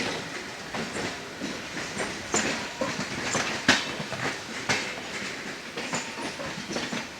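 Train on the Sealdah main line hauled by a double diesel locomotive, wheels beating a steady clickety-clack rhythm with repeated sharp rail-joint clunks over continuous rolling rumble, close and fairly loud, no voices.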